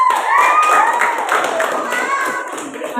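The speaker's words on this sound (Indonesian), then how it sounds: "tepuk tangan untuk kalian semua" Children in a classroom clapping and cheering, a lively crowd of hands mixed with high excited shouts and whoops that stay busy and close for the whole stretch.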